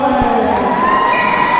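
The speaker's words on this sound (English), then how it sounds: "Now this crowd's into it." A high school boys' varsity hockey crowd at a Forest Lake versus Roseville game cheers and shouts loudly and steadily, with children's shouts and whoops rising through the sustained roar.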